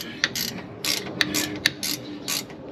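A ratchet tightening a breather fitting on a Dana 60 axle, with several short bursts of rapid clicking close by and sharp ticks between them, no talking.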